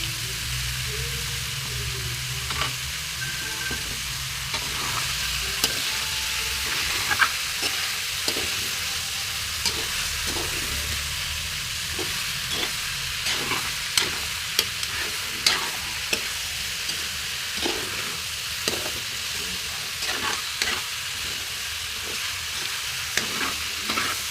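Hotdogs tossed into pork menudo frying in a pan, with a steady soft sizzle under repeated clinking stirs of a spoon against the pan, close and moderately quiet throughout.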